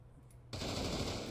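Automatic gunfire in the VR shooter Pavlov VR during a competitive match, starting abruptly after a quiet moment and continuing as a dense, loud, sustained burst of shots to the end.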